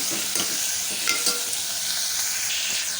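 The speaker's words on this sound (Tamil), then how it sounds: "வெங்காயம் தக்காளி சேர்த்துட்டு ஒரு அஞ்சு நிமிஷத்துக்கு நம்ம வந்து நல்லா வதக்கிக்கலாம்" Onions and tomatoes sautéing in a pan for spinach pulao, a dense close sizzle with repeated scraping stirs of a spoon throughout.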